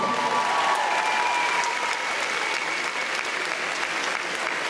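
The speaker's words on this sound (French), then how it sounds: "Alors quand on aime, on applaudit évidemment, mais quand on adore, on se lève." Sustained, dense applause from a large audience giving a standing ovation at a hair show, steady and loud throughout with a faint crowd murmur underneath.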